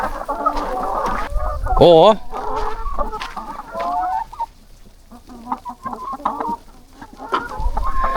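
Chickens clucking around a hen house with PVC feeding troughs, busy overlapping clucks and one louder squawk early on, close and fairly loud, with a brief bit of talking.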